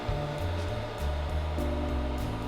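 Dell R710 server fans running at idle with zero CPU load, a steady whooshing hum with tonal whine lines and slight shifts in pitch, continuous and close, with no talk.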